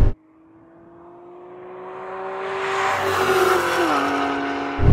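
A BMW E39 M5 and a Nissan R34 GTR Skyline launch in a standing quarter-mile drag race, engines rising steadily in pitch and loudness with a gear change near the end, alone without talk.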